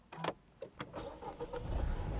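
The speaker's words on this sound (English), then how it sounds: "if I fire the car up" A Dacia Duster's engine cranks and fires up, a brief starter whir followed by the engine catching and settling into a rising, steady idle rumble, close and moderately loud with no talk.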